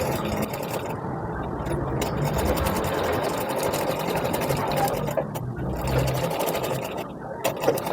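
A sewing machine stitches a four-tuck blouse in a steady, continuous whir that runs from start to finish, with a voice talking over it throughout.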